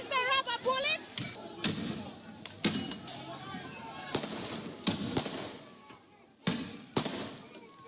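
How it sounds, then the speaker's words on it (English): Rubber bullets fired by police at a street protest in Roseau, Dominica crack out as a series of sharp, loud bangs and thuds spaced irregularly, with voices talking and shouting in between. "That's the rubber bullets."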